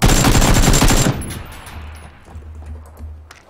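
Gunfire in PUBG: Battlegrounds, a loud close burst of rapid automatic shots lasting about a second, followed by quieter scattered single shots and echoing distant fire.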